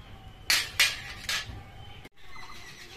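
Daliya cooking in a pot, stirred with a spoon: three sharp scraping clinks close up, then a low simmering background.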